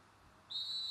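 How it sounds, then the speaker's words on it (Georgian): A referee's single sharp, high whistle blast at a rugby match starts halfway through and holds steadily to the end, after a quiet background. "რამდენიმე წუთში მსაჯის სასტვენის ხმაც გაისმა და თამაში დაიწყო."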